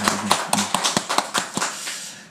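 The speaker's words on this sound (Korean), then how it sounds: "우리 하나님께 영광의 박수 올려드립니다" A church congregation at a Sunday worship service claps in brisk, uneven bursts of sharp slaps, close and moderately loud, thinning out toward the end.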